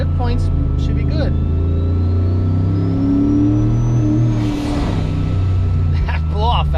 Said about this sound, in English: That blow-off valve is super loud.